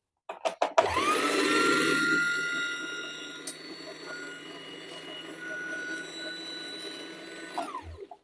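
A foot-pedal sewing machine winds thread onto its bobbin. A few quick mechanical clicks lead into a steady, close whirring hum that runs for several seconds, then winds down and stops with a final click.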